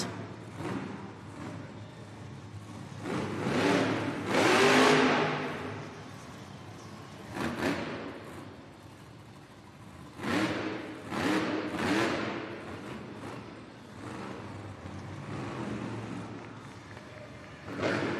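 Monster truck engine revving in an indoor arena during a two-wheel skills challenge, with loud surging bursts rising and falling over a constant crowd and arena roar across the clip.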